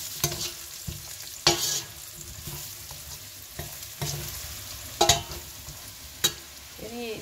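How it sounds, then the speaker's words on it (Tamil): Potatoes and spices fry steadily in sizzling oil in a pan while a utensil stirs and scrapes at intervals, with a few sharper clatters against the metal. "எண்ணெயில் கொஞ்சம் பொரிஞ்ச மாதிரி செய்வோம்."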